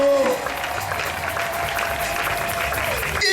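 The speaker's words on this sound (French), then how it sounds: "On l'acclame" A large congregation claps and applauds steadily at a church celebration in Ngaba, a dense roar of hands sustained throughout with a voice briefly audible at the start and end.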